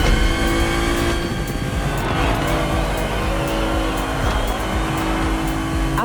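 A BMW race car in the racing video game The Crew Motorfest drives with a steady, loud engine roar that holds constant throughout, with no pauses and no voices.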